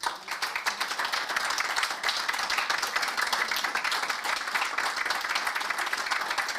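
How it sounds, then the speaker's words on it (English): Audience applauding at the HS Award Ceremony 2023, a steady, dense crowd clapping that holds at an even level throughout, fairly close, with no voices over it. "Please give them a round of applause."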